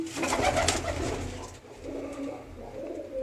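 Several pigeons coo close by in a loft, giving overlapping throaty calls that start dense and loud, then ease into softer, rolling coos.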